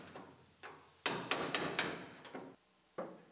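Makeshift breaker hammered against spot welds on a Silverado truck cab, a run of sharp metallic knocks, four loud strikes in quick succession, then scattered single blows spaced apart, close and with no talk.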